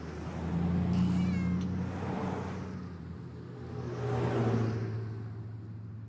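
A cat in the Randal's Monday video game gives two drawn-out meows a few seconds apart, close and moderately loud over a low engine-like hum and whir.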